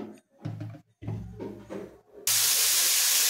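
Cauliflower frying in oil in a wok: after a few brief bumps and clatters, a loud, steady sizzling hiss bursts in abruptly and continues evenly to the end.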